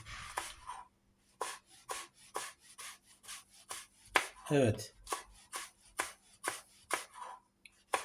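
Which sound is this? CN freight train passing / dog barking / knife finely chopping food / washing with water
knife finely chopping food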